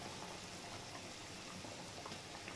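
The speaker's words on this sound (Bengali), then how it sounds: "এই দেখুন বন্ধুরা গ্রেভিটা ফুটতে শুরু করেছে" Masala gravy for a pomfret curry bubbles at a steady boil in a pan, a continuous close, soft burbling with small pops and no voices.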